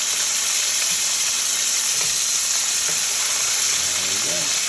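Pork chops sear in hot avocado oil over high heat, giving a steady, dense sizzle and hiss from close by with faint clinks of handling, and no talking.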